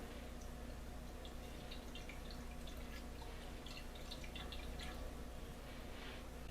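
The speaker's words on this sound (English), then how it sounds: "And we're going to pour in some water." Water being poured into a pan holding Sicilian extra virgin olive oil, heard as a steady, fairly quiet trickle with light splashing throughout, no talking.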